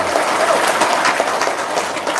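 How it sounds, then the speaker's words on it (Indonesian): An audience at an Indonesian seminar bursts into dense, sustained applause, loud and steady throughout with no pauses. "Tepuk tangan dong"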